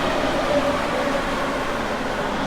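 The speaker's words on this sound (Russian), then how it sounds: "Сейчас мы находимся в метро." Steady rumbling roar inside a moving Mexico City metro car, a constant broadband whir with faint tonal squeals, no voices.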